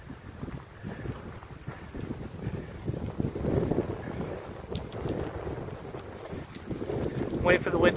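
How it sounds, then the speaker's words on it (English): Strong wind gusts buffet the microphone on a beach, making a steady low rumbling roar that builds and swells in bursts, with no clear voices. "That wind just hit all out of nowhere."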